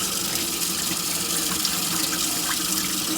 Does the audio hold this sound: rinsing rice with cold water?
yes